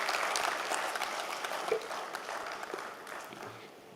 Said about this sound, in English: Can we have a round of applause as we welcome him on the stage?